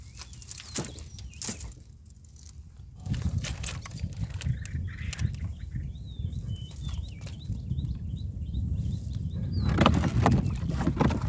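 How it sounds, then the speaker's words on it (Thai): Strong sea wind on a small boat out among crab traps, a broad rushing roar building over the clip beneath water sloshing, knocks and faint bird chirps. "ลมแรงทะเลครับ"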